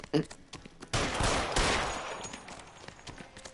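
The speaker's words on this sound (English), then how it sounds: "Shoot him, for God's sake!" A burst of gunfire in a detective audio drama, a sharp shot followed by a loud, dense volley of shots that decays into scattered echoing cracks, heard close with brief voices at the start.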